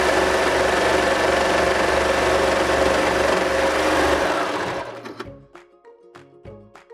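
A serger stitching a 4-thread overlock seam runs at a loud, steady whirring pace for about four and a half seconds, then stops, leaving a few faint mechanical clicks and taps.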